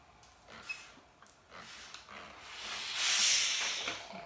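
A steam iron pressing open the seams of a sewn dress releases a soft hiss that swells into a longer, louder burst of steam near the end, after a few light clicks and handling noises.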